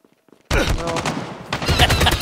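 Heavy Call of Duty gunfire from several players, with an ASM-10 in play, erupts after a brief near-silence into a loud, dense burst of rapid overlapping shots that runs on without a break.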